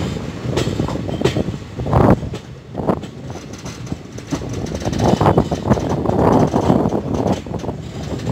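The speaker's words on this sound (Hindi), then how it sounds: "आप देख सकते हैं कितनी करीब से ट्रेन निकलते हुए" A train rolls close by on a curve near houses on the line between Sitapur Junction and Sitapur City Junction, a loud rumbling clatter with rhythmic bursts of wheel knocks and no talk.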